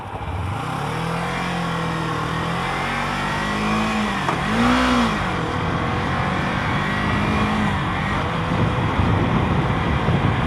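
A 2015 Kawasaki Ninja 300 motorcycle engine revving, pitch climbing and falling through several throttle blips with a sharp rise and drop midway, close and loud over a steady engine drone.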